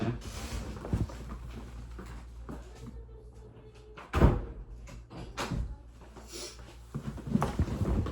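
A door is pushed shut indoors with a couple of dull thumps and a firmer knock near the middle, set against a noisy room with a faint background hum.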